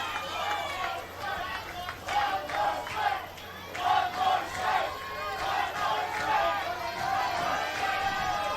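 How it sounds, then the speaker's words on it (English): Crowd at a Little League Softball World Series game between the Philippines and Maryland, USA, a steady roar of voices swelling and dipping in waves with shouts rising through it, loud and continuous. "Do you hear the crowd?"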